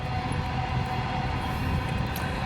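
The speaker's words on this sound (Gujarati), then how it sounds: "રેલવે આટલે હવે પૂરી થાય." A steady low rumble and rattle of a passing train, constant and fairly loud throughout with no pauses.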